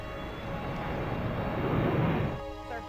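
A passenger airliner roars down the runway on takeoff in a scene from the film United 93, a loud, steady broadband rush of jet engine noise that fades slightly at the end, with no talking.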